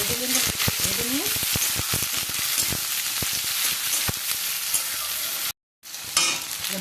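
Chopped onions fry in a pan with a loud, steady sizzle and frequent scraping strokes of a spatula up close. The sound cuts out briefly near the end, then the sizzle returns.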